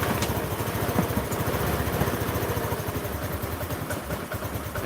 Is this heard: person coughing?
no